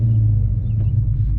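Dodge Challenger R/T 392 Scat Pack with aftermarket exhaust work idling, a deep steady low engine rumble close by with a slight bump partway through.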